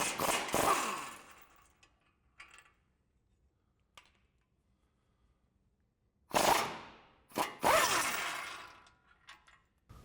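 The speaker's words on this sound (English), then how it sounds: "Now we're going to remove our two lower strut mount bolts here and here using our 19mm wrench and a 19mm socket." A ratchet on a 19mm socket works loose the lower strut mount bolts of a 2015-2020 Ford F-150, giving quick bursts of clicking and metallic clatter separated by quiet pauses.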